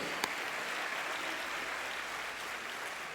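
A congregation claps together during a Portuguese-language church sermon, a faint, steady wash of applause from across the room that carries on without a break for about three seconds.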